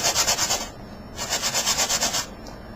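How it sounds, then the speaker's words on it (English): Quick back-and-forth abrasive rubbing of a sanding stick on a plastic MR-02 differential part, in short rhythmic bursts, two runs of strokes with a brief pause between, close and crisp. "I got a little sanding stick right here"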